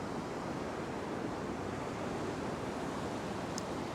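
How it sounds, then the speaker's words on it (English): Big surf breaks steadily on a beach, a continuous loud roar of waves washing up and pulling back, with wind noise over the microphone and no voices. "the way these waves are breaking, the water's going to wash all the way up, then it's going to go all the way back"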